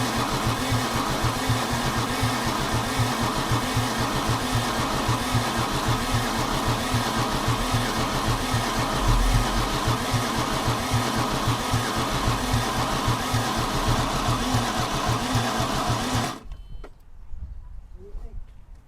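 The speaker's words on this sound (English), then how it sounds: "Let's try cranking it again." An abandoned old diesel Mercedes engine being cranked by its starter, a steady rapid chugging whir that runs unbroken for about sixteen seconds before cutting off, leaving quiet background noise.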